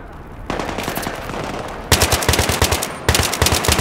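Loud bursts of rapid automatic gunfire from the Battlefield 3 campaign mission Operation Guillotine, several close volleys of machine-gun fire separated by brief pauses, with no speech.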